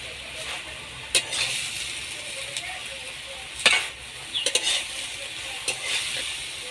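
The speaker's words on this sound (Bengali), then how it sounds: "সবজিটাকে হালকা নেড়ে নেব, নাহলে সবজির যে একটা গন্ধ থাকে সেটা রয়ে যাবে।" Bottle gourd greens (lau shak) stirred in a pan as a Bengali chorchori cooks down: a soft sizzle under repeated scraping and clinking strokes of a spatula, several sharp taps in an irregular rhythm, close by.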